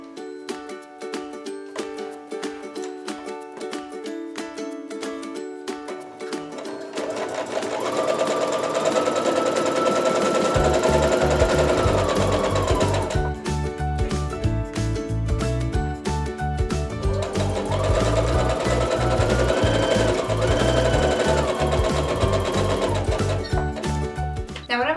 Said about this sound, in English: I'm gonna flip these guys right sides together, and I'm just gonna sew right down